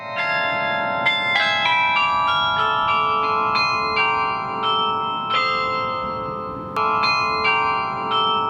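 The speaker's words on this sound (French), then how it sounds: "Le carillon sonne le nadalé lors de la période de Noël." A church carillon in Provence rings the nadalé at Christmas, a clear bright peal of overlapping bell strikes in a repeated melodic pattern, each note ringing on and fading into the next.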